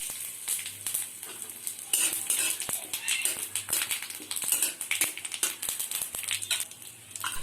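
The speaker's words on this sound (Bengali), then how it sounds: "এখানে আমি জিরে রাঁধুনি ফোড়ন দিচ্ছি।" Cumin and radhuni seeds tempering in hot oil for a jackfruit and chickpea dal, with steady bright sizzling and crackling and occasional clinks of a stirring spoon against the pan.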